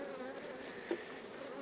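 Honey bees hum steadily at a hive on a farm in August. The drone is soft and continuous, with one brief louder buzz as a bee passes close by.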